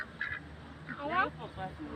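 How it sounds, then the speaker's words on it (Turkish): A duck quacks in a few short nasal bursts, with a voice and talk nearby. "Ördek ne yaptı?"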